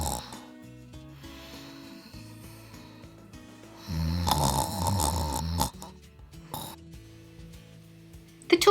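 Loud snoring from a hare in a children's tortoise-and-hare story, a voice imitating the snores, with rough snorting breaths repeating under a lower tone and one long loud burst in the middle.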